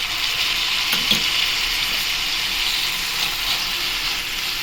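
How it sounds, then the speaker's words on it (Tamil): Brinjal sautés in a pan for a brinjal thokku, giving a loud, continuous frying sizzle with a brief stirring scrape near the start. "கத்திரிக்காய் நல்லா வதங்கிடுச்சு பாருங்கள்"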